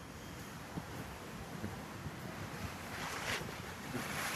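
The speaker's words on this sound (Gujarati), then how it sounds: "તો આ બાજુ છે ને દરિયો" Rough sea surf rolls onto the shore in a steady, broad wash mixed with wind buffeting the microphone, fairly faint, with swells rising and falling, and no voices.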